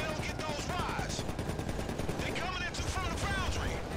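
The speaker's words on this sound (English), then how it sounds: "He's been shooting at the same thing for like 5 minutes." Dense, rapid gunfire in GTA Online, constant and loud across a short stretch, with people talking over the shooting.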